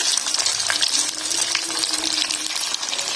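Chicken drumsticks frying in oil in a pan, a steady close hiss and crackle of sizzling with light spattering throughout, no talking.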